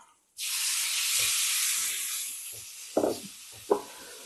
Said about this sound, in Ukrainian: Залишаю ту ж саму температуру та закидаю м'ясо.